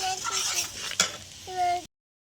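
Ginger, garlic and tomato paste with salt and chilli powder sautéed in a pan for chicken chana masala ghugni, quiet sizzling under scraping stirs and a sharp utensil clack near the middle, then abrupt silence.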